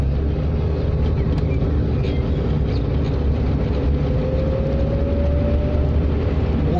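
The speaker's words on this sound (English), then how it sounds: "Oh, it's got that classic CVT hum." A Fiat Panda Mk2 with a Selecta CVT gearbox, driven on the open road, giving a continuous low drone with a faint rising whine under the steady road and cabin noise.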